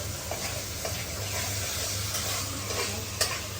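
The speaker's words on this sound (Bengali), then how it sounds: "তো দিয়ে দিলাম বারবিকিউ সস" Seafood cooks in a pan with barbecue sauce, giving a loud, continuous sizzle and frying hiss with stirring scrapes and an occasional clink of a utensil against the pan.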